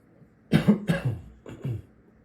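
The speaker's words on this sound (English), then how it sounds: "Pardon my cough if I cough a bit during this video." A person who is ill coughs twice, close and fairly quiet, a pair of rough bursts followed after a short pause by a softer second cough.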